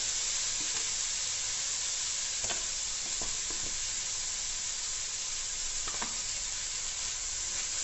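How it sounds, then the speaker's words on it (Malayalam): Chilli sauce going into a hot pan over lowered flame, a loud, steady close sizzle and hiss throughout, with a few faint stirring scrapes and no talk. "ചില്ലി സോസ് ഒഴിക്കുക."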